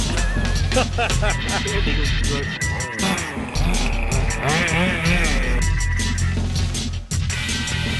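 Petrol engines of HPI 5B buggy and 5T truck 1/5 scale off-road RC cars drone and rev continuously with rising and falling pitch, loud and steady, while people talk over them.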